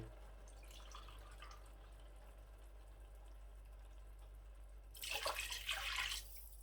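Quiet room tone, then a brief burst of water splashing and pouring into a pot of fried peas for rice for about a second.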